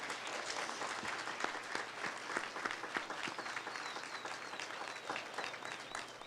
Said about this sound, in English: another big round of applause for all of our scholars